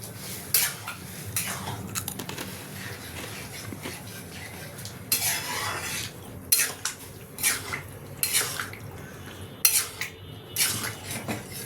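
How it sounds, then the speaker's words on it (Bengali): Boiled tarka, a lentil dish, being stirred together with spices in a pan, with repeated metal utensil scrapes and clinks against the cookware in irregular bursts, close and fairly quiet, no talking. "দিয়ে এটাকে মশলার সাথে ভালোভাবে মিশিয়ে নেব।"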